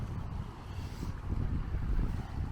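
Low, blustery wind rumbling across the microphone on a sandy Western Australian beach, gusting steadily with a faint wash of surf underneath.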